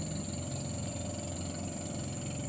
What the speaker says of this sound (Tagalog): may motor siya pandagat